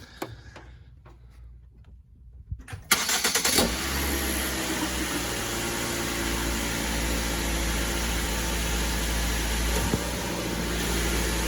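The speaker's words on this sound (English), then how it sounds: "once I turn the car on" A Ford Focus engine cranks and catches near the three-second mark after a quiet stretch, then settles into a steady, loud idle that holds to the end.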